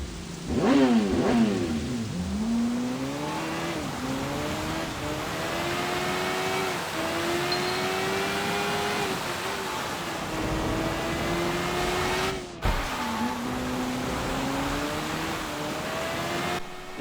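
A motorcycle in the video game Sleeping Dogs revs and accelerates, its engine whine rising and falling through gear changes over a long stretch, with one brief sharp cut near the end.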